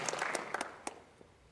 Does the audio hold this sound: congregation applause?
yes